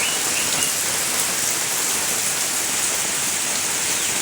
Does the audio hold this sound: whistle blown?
no